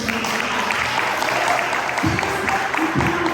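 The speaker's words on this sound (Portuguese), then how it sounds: "Você podia aplaudir o Senhor?" A church congregation applauds, steady clapping spread across the room, holding an even level throughout, with a low tone sounding briefly underneath.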